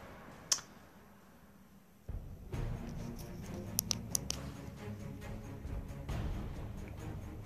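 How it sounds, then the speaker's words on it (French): Rain falling in Minecraft PE: a steady broadband hiss and patter that starts abruptly about two seconds in and continues, with scattered soft clicks and taps over it. "Il pleut, génial."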